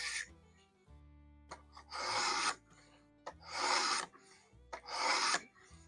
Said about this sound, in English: you want to take your stone and set it on the blade and work your way up